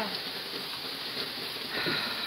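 Steady rain falls outdoors as a soft, even hiss, fairly faint and continuous throughout, with no clear talking over it.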